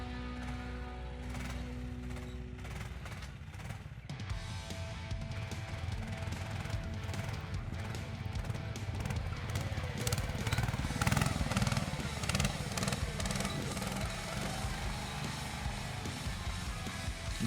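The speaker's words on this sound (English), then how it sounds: "It's a rear engine sled with 20 HP engine." A rear-engine homemade mini snow sled with a 20 HP engine runs at a snow competition, a rough, rattling motor drone that grows louder and busier midway, with clanks and mechanical knocks throughout.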